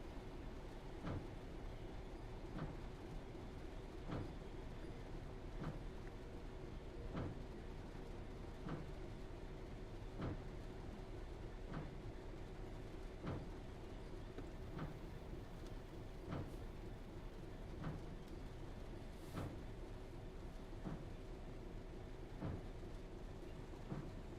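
In the Train Sim World 3 railway simulator, a train rolls over points at night, giving a steady run of evenly spaced wheel clicks over a constant rumbling bed of noise, with no talk.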